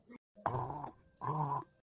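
Two loud, rasping snore-like groans in quick succession, close by, separated by a short pause, from a cartoon.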